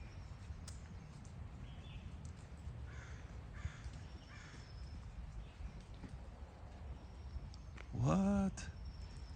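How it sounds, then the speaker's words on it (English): A tree full of crows in a fire-ravaged neighborhood of Altadena, with faint scattered calls under a low rumbling background and then one loud, harsh caw close by near the end. "The whole tree is full of crows."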